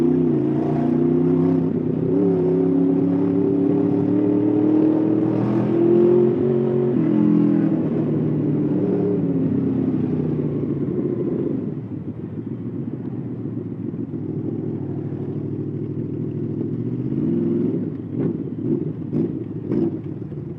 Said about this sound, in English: I was revving really fucking low then for no reason that I could see